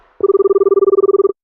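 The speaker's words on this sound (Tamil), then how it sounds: "அன்னோன் நம்பர்லேருந்து ஃபோன் வருது" A phone rings loud and close with a rapid trilling electronic tone pulsing steadily for about a second. The call comes from an unknown number, and no voices are heard.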